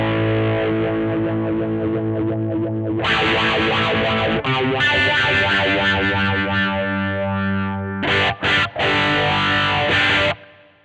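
A guitar runs through a modulation effect on a Peavey Vypyr X2 modeling amp, sounding as sustained, swirling distorted chords that play loud and steady before a few short stabbed chords and then a sudden stop.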